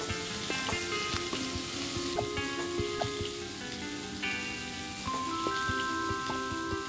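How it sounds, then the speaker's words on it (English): Steady, close sizzling of onion frying in a hot pan, with a few clinks and taps scattered through it. "We're gonna go ahead and put our onion in. So very super simple. It's gonna sizzle beautifully."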